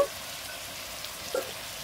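Beef nihari chunks and potato pieces drop into oil and fried spices, giving a steady broadband sizzle with a couple of soft splashy bumps near the start and end.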